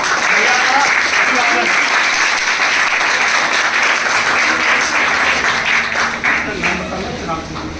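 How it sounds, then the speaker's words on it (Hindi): Loud, sustained applause from a student audience at a school student parliament formation event, dense clapping throughout with a crowd murmur and some voices mixed in. "एक बार जोरदार तालियों के साथ"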